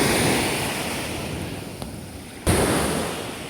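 Powerful ocean surf pounds a beach shore where waves have damaged a riprap seawall, a steady roaring wash with wind buffeting the microphone and one sharp, louder crash of breaking water partway through.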